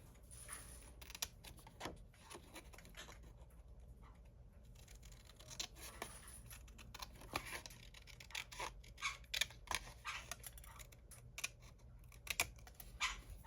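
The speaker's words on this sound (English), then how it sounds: "you want to get scissors and you're going to cut out all of this on the bottom" Repeated crisp snips and scratchy cuts at close range, irregular in rhythm, over a quiet steady background hum with no talking.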